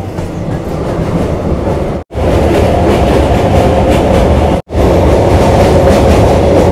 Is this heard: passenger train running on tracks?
yes